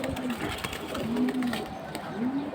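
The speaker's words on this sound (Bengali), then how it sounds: "এটা নর, বেজি কবুতর ভাই" Bezi pigeons at a pigeon market coo in low, rolling, repeated phrases close by, over a busy, noisy background with faint voices.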